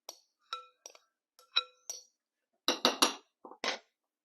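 Bacon asparagus casserole is spooned into a casserole dish, making a series of sparse, light clinks and taps of a utensil on the dish. A denser cluster of scraping knocks comes near the end, and no voices are heard.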